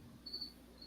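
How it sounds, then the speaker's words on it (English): Crickets chirp in a faint, high, steady trill that comes in two short bursts against a quiet indoor background, followed by a low thump at the end. "I hear crickets"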